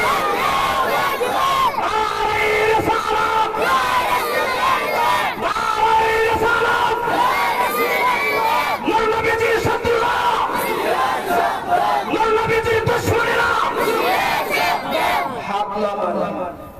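A large crowd chants Nara-e Takbir in unison with raised hands, loud sustained massed voices forming repeated shouted phrases that fill the whole stretch and fade briefly at the end.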